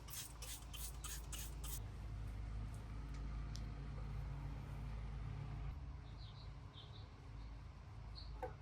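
A few quick bursts of wheel shine cleaner are sprayed onto truck wheels, followed by soft, faint wiping against a low steady background hum.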